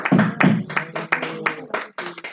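A church congregation claps in bursts during a harvest fruit sale, several uneven rounds of close, fairly loud hand claps with voices mixed in.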